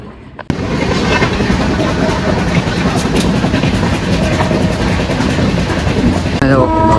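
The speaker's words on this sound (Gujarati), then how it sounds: "માલગાડીની ટ્રેન છે" A freight train rumbles past at close range with a loud, continuous roar and rattling wagons; a sharp bang opens it, voices faint near the end.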